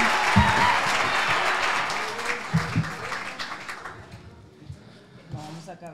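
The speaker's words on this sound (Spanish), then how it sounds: "un aplauso para la compa Pili" A live audience at a comedy podcast taping claps loudly, then the applause gradually thins and fades, with a few thumps and murmured voices beneath it.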